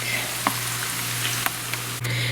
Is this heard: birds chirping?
no